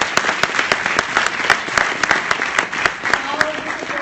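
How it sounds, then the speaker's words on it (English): An audience at a public health school convocation claps warmly. Dense, close applause carries sharp individual claps throughout and holds a steady level for several seconds. "Can we give them a round of applause?"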